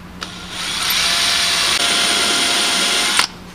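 A power drill with a self-centering bit whirs steadily for about three seconds drilling a pilot hole, starting and stopping abruptly, close by with no talking.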